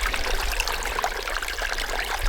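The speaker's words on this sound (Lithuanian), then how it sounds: "Čia irgi jau per viršų teka vanduo" Water flowing over and through a beaver dam, a steady close trickling and babbling stream with continuous splashing texture and no voices.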